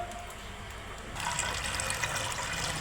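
Water is poured off soaked jowar batter being prepared for papad, starting as a soft trickle and then growing into a steadier, louder stream of splashing liquid.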